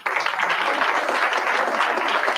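Married members of a comedy show audience clap together in a steady, dense burst of applause, loud and close, with no voices over it.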